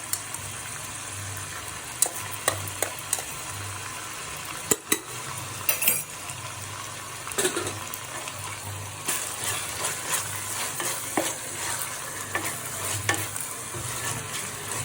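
Ginger garlic paste frying in a pan for veg fried rice, a steady close sizzle with occasional sharp clinks and scrapes of a metal spoon stirring against the pan.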